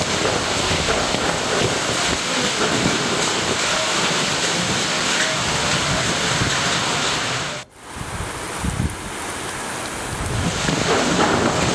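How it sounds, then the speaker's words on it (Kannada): Heavy night rain with thunder in a town, a dense, loud, continuous roar of downpour. A sudden break near the middle is followed by a rumbling return, and the rain builds again toward the end. "ರಾತ್ರಿ ಗುಡುಗು ಸಹಿತ ಮಳೆಯಾಗಿದೆ"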